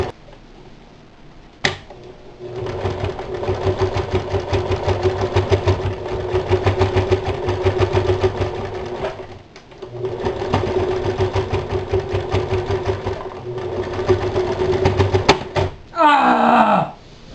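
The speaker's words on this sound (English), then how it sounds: "we're going to stitch the outside edge to the bottom edge of our apron" A sewing machine stitches the outside edge to the bottom edge of a festive holiday apron in two long, steady runs of rapid whirring. A short pause separates the runs, and a brief different noise follows at the end.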